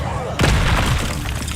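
An Incendio fire spell is cast in the Hogwarts Legacy video game, a sudden loud whooshing boom cutting in after a short lead, with a voice calling out over the blast as it rumbles and fades.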